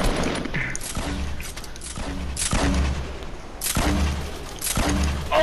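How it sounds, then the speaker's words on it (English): Grenades launched and exploding in the video game Fortnite, a series of heavy booming blasts about once a second over a continuous roar of battle noise. "Launch the grenades at him"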